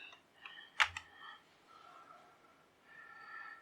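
A few faint, scattered keystrokes tap on a computer keyboard, with one sharper click among them in a quiet room.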